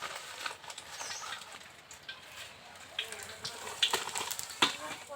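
Cumin seeds and dried red chilies tempering in hot oil in a kadai, a quiet crackling sizzle with scattered sharp pops that grow busier toward the end.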